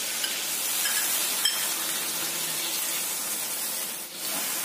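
Chicken, sausage, carrots and broccoli stir-fry with oyster sauce in a pan, giving a steady, close hiss and sizzle throughout with faint stirring.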